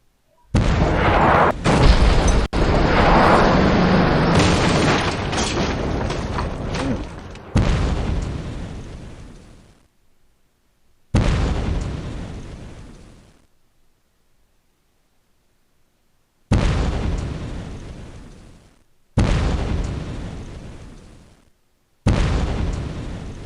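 Several heavy explosions from Martello units firing in the C:MANO naval game: a long rumbling barrage at first, then four separate booms, each sharp onset decaying over a few seconds, loud and alone.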